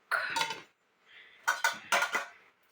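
A metal wok is handled for making chicken soup, clanking and scraping against other cookware in a few close, bright clattering bursts separated by short pauses.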